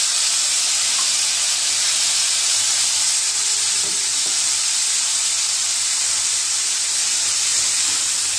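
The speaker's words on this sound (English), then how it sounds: "Now I'm adding onions and tomatoes together." Onions and tomatoes sizzle in hot oil with cumin seeds for lentil soup, a loud steady hiss of frying that runs unbroken throughout, with a faint clink partway through and no talk.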